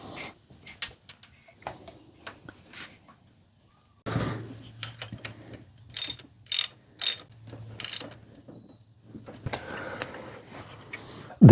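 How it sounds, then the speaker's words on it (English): Ford Falcon cam chain tensioner being wound in during an oil leak repair, a series of sharp mechanical ratcheting clicks in short bursts, close and alone, separated by quieter handling noise. "It's tensioning the cam chain."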